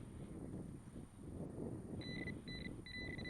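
A Fisher F5 metal detector gives three short, high electronic tones, a nickel signal, near the end. They sound over a steady background of wind and handling noise outdoors.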